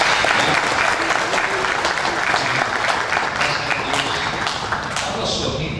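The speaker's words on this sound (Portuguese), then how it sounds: "Aplausos para o Senhor." A church congregation applauds during a service led by a bishop, sustained dense clapping from a large room for several seconds, with crowd murmur and voices beneath it, easing slightly toward the end.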